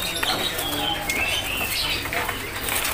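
A brown-chested jungle flycatcher flutters inside a cage at a bird kiosk, making rapid close wing flaps and rustles, with thin chirps from nearby birds.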